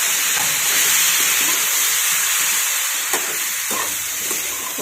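Okra masala sizzling and hissing in a thin kadai as a little water is poured over it, a steady loud fry with stirring scrapes throughout.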